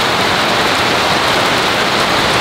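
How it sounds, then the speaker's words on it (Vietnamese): Heavy rain pouring down in a steady, dense hiss that stays loud and unbroken throughout, with no voices. "Mà hôm nay lại mưa, tiếp tục mưa to như này xuống"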